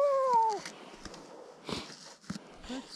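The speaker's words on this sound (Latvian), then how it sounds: "Ka kaķis pavasarī." A cat gives one short meow at the start, close and clear, followed by scattered rustling, taps and footsteps outdoors.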